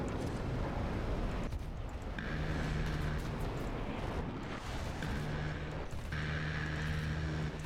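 Rapid cannon fire from a J35D Draken jet in War Thunder, dense bursts of gunfire over a loud continuous roar of engine and wind, with short tonal warning beeps recurring.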